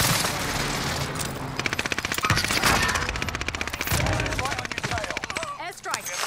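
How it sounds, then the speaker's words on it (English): Rapid bursts of machine-gun fire and explosions from an airstrike in a video game pound loudly and continuously, with a brief pause near the end before more blasts. "Oh, they're running airstrike."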